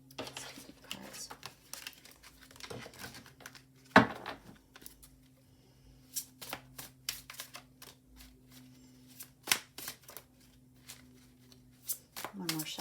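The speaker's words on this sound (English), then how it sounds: "One more shuffle." Tarot cards are shuffled in short papery riffles and taps, close and moderately loud, with a steady low hum underneath and one sharp knock early on.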